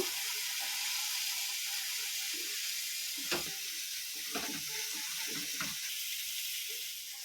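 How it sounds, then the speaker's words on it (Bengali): Carrot halwa cooking with a spoonful of ghee in a pan, a faint low hiss with a handful of soft scraping stirs near the middle, quiet and without speech. "আমি এক চামচ ঘি অ্যাড করে দিলাম ভালো করে নাড়িয়ে নেব"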